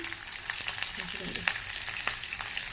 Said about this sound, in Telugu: ఇది దాంట్లో చికెన్ వేస్తున్నాను, కొంచెం కొంచెంగా వేస్తున్నాను, స్టవ్ స్లో చేసుకుని